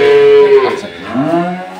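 A dairy cow of an improved milk breed lows on a farm, one drawn-out moo sliding down in pitch, then a second, rising call, both loud and close.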